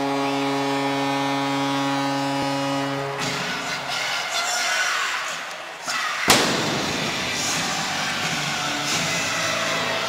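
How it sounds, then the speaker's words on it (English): A sudden loud boom of an arena goal cannon at an NHL hockey game, Washington Capitals vs. Columbus Blue Jackets, cuts through a sustained horn and crowd roar, followed by continuing noisy cheering. "There's the cannon taking away my hearing again."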